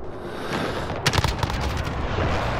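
Long-range gunfire in a first-person shooter video game, heard as a burst of sharp shots with booming tails. A short cluster of reports lands about a second in, followed by scattered lighter pops over steady game ambience.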